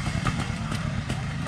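A Fantic trial motorcycle revs in first gear on a woodland trial course, its engine a close, steady clattering drone over a brief burst.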